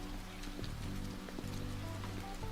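Rain from the game Persona 5: The Phantom X falls steadily and evenly on surfaces, with scattered drop ticks over a low background hum.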